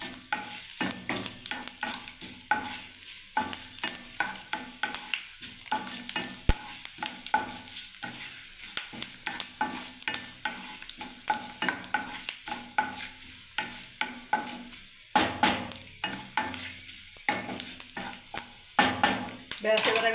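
A spoon or spatula stirs onion and garlic sizzling in a pan for Hyderabadi-style tur dal tadka, making repeated rhythmic scraping strokes against the metal over a continuous frying hiss, close up, with occasional clinks.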